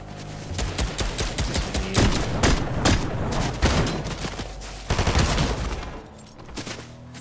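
Rapid, continuous gunfire in the game Fortnite crackles in dense bursts, nearly unbroken, briefly thinning before another volley and tapering off.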